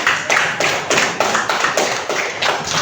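A classroom group claps together in a steady rhythmic beat, each clap sharp and close, repeating about every third of a second without talk.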